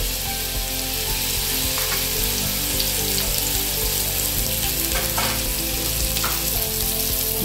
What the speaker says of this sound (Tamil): மாங்காய் போட்டுக்கலாம்.